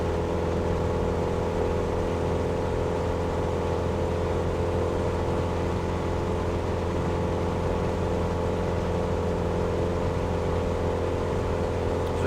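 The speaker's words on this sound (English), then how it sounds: "I'm going to back off the throttle so I don't over rev the engine." Aircraft engine in the Aerofly FS2 flight simulator, a steady, loud, even drone holding level cruise at about 2,500 feet, with no break in the sound.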